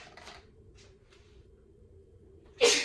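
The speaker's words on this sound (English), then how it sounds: "oh, it's making me sneeze" A single short, sharp sneeze bursts out near the end after a quiet stretch with a low steady hum.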